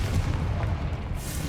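Confringo blasting-spell explosion in Hogwarts Legacy, a dense, loud booming rumble filling the whole moment with a heavy low-end roar and no clear separate hits.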